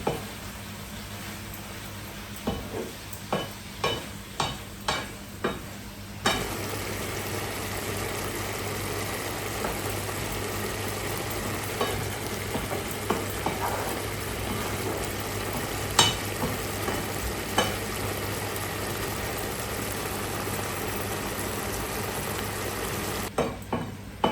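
A spicy squid stir-fry gets mixed in a pan: a row of quick clinks and taps, then a steady low sizzle with a constant hum underneath and occasional scrapes and knocks, close and moderate, with no speech.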